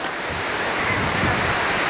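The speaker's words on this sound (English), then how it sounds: "That's the ocean." Steady broadband wash of ocean surf breaking on a beach in Calabria, Italy, a continuous roar with gentle swells and some wind buffeting, no voices.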